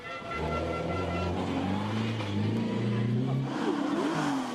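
Opel Kadett GTE rally car at the Boucles de Spa rally, engine loud and near, rising and falling through revs in a sustained roar with shifting pitch, voices faintly mixed in.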